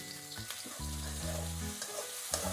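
Onions with salt fry in oil in a pan for a chicken curry, a steady close sizzle with crackles and a few clinks and scrapes of a utensil, quiet overall with no speech.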